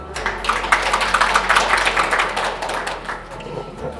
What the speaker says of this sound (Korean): 따뜻하고 큰 박수로 환영해 주시기 바랍니다